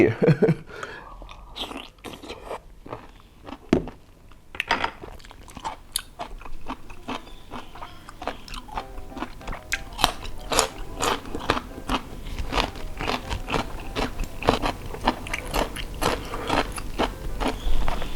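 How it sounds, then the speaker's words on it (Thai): Someone eating big, crunchy cockles: repeated close, sharp bites and crackly chewing that build into a dense, steady run of crunches with no talking. "เพราะหอยมันใหญ่ มันกรอบ"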